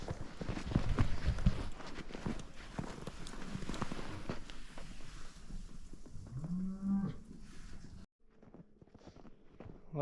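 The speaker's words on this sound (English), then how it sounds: "This ornery cow here." An ornery cow on a ranch lets out a loud rising moo near the end, over steady outdoor rustle and footsteps, followed by a brief quiet gap and faint noise.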